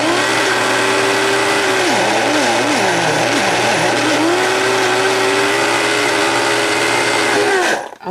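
A blender runs loud and close as it purées raspberries, its motor whine holding steady and then wavering in pitch as the fruit churns, before it cuts off abruptly at the end.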